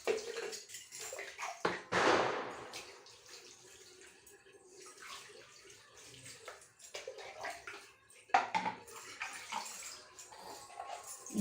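Water is poured slowly over a baby during a traditional bath, making intermittent splashes and trickles that swell and fade, fairly quiet and close, with one sharper splash late on.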